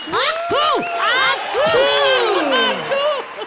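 A studio audience at a comedy show claps and cheers loudly, with whistles and whoops rising and falling over a steady wash of applause that stays close and unbroken throughout.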